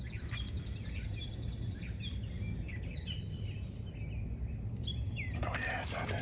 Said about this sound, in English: Listen for the sound, besides the birds chirping.